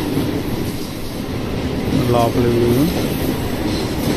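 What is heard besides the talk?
passenger train running on the rails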